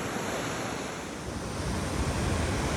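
River water rushes through a narrow gap in the rocks at Stamp River Provincial Park, a loud, dense, continuous roar with no voices.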